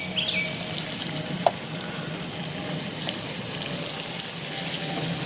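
Cubed food sizzles and crackles in a pan over high heat, a steady dense frying hiss with a few sharp pops and light stirring clicks, close and with no talking.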